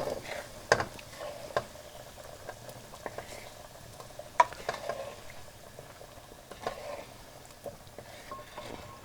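Meatballs and potatoes for Kaleh Gonjeshki frying in a pan, giving a soft, steady crackle and bubbling with occasional sharper pops, heard close up and fairly quiet with no talking.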